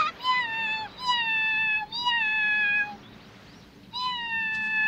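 A cat meows four times in a row, each drawn-out, clear and close, with a brief pause before the last one.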